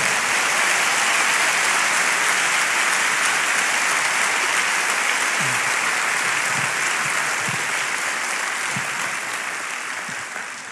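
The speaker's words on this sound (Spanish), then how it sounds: "Dale un aplauso fuerte al Señor" Steady, loud applause fills a church worship service, sustained clapping from a congregation with no talk over it, tapering slightly at the end.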